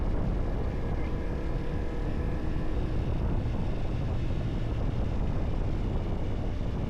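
Steady wind buffeting a microphone, a constant low rumbling roar with no breaks, recorded outdoors along a winding road from Lomondao to Arakan.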